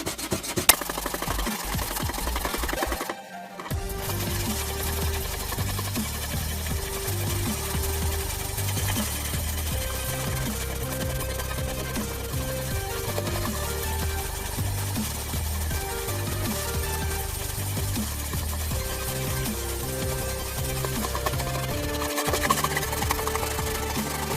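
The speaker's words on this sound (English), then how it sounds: "I will try to sand down this surface a bit to see what we have to deal with here." Plastic-and-epoxy filler on an Apple II case is sanded by hand, a continuous gritty rubbing with short repeated strokes that pauses briefly once, close and moderately loud.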